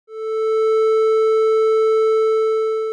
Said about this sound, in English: you may have noticed the change in sound quality of the oscillator when we clipped it.